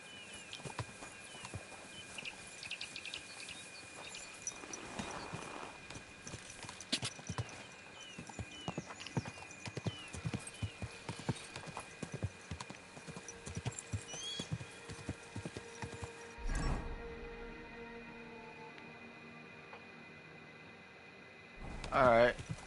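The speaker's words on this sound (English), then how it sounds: "Or a horse." Horse hooves clip-clop steadily through the video game Kingdom Come Deliverance 2, a moderately close patter running most of the stretch over constant background game ambience, with a brief break near the end.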